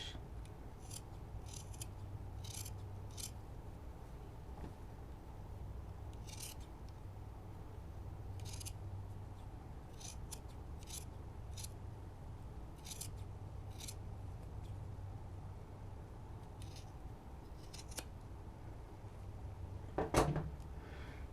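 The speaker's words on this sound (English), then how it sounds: "now that I've trimmed down my seam allowances" Scissors trimming fabric seam allowances down to about an eighth of an inch while sewing a scarf wrap; a series of quiet, crisp snips come in short bursts over a soft background hum, with a louder handling rustle near the end.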